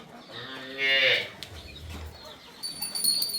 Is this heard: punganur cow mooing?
yes